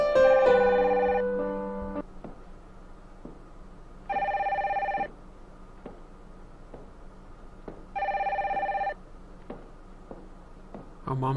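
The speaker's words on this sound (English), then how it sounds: "Mom, get the phone, hurry up." A telephone rings in the video game Nancy Drew: The Silent Spy, two clear electronic ring bursts a few seconds apart following music at the start, with faint background ambience between rings.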